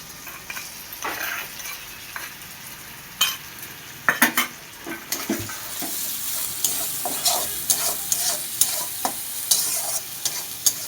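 Onion fries in a pan while a spoon stirs it, making a soft continuous sizzle with irregular scraping strokes and light clinks that grow busier toward the end, and no one speaks.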